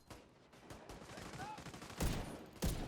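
Gunfire in The Division 2 during PvP: a few scattered shots, then two loud, close bursts near the end, over faint background game sound.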